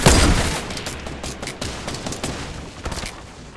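Rapid bursts of video game gunfire in a Fortnite Battle Royale match: a loud burst at the start, then scattered shots and short volleys fading into the background. No talk.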